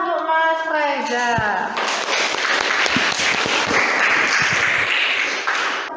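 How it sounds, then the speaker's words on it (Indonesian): Classroom applause breaks out right after a teacher's voice, a dense burst of many hands clapping that keeps going loud and steady for several seconds. "Beri tepuk tangan untuk Mas Reza."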